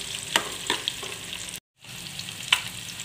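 Food frying in a pan with salt and kasuri methi, a soft steady sizzle under occasional sharp stirring clicks, close up, with a brief cut to silence midway and no voices.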